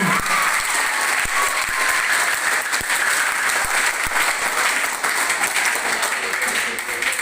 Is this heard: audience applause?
yes